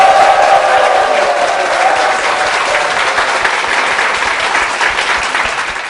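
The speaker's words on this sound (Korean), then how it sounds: "큰 박수 부탁드리겠습니다." A church congregation at the Holy Spirit Power Church gives loud, sustained applause with a little cheering, steady and close before easing slightly at the end.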